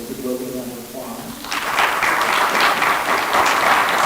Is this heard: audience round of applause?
yes